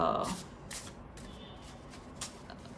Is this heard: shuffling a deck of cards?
yes